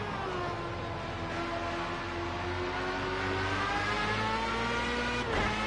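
A Formula A open-wheel race car in Project Cars 2 drones steadily at high revs on a final lap, its engine pitch slowly sliding and climbing, loud and continuous with no talk.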